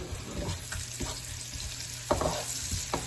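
Onions fry for a chicken korma in a hot pan, a steady close sizzle with a few brief scraping stirs breaking through, and no voices.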